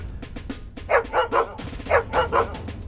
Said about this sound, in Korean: 밖에서 백구의 짖는 소리가 들려왔다.